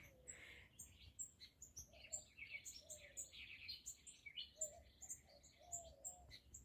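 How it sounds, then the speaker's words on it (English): Birds chirping and tweeting in repeated short calls, fairly faint and distant, with a soft low hum underneath and no one speaking. "Guys, can you hear the birds?"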